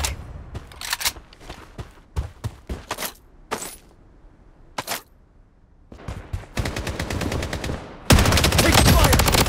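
Gunfire in the shooter game Blood Strike: sharp, close single shots and short bursts at an uneven pace, building into sustained rapid automatic fire that grows louder at the end.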